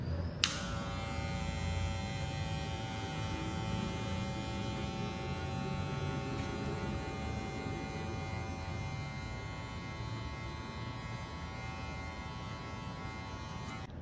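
Electric hair clippers with a number 1 guard buzz steadily and close by for the whole stretch, a constant humming drone as they cut wavy hair, with no talking.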